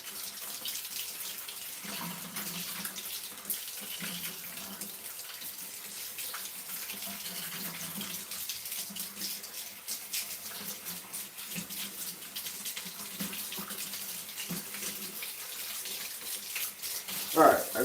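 Water runs steadily from a tap while something is rinsed off, a continuous soft hiss and splash at moderate distance, with a brief louder knock near the end.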